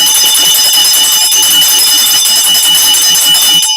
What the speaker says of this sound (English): Any man don't like it, just pick up the bell and start ringing